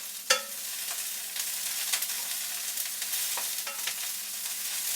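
Broccoli stir frying in oil in a pan: a continuous soft sizzle broken by scraping clatters and tosses as the pieces are flung around, close up with no talking.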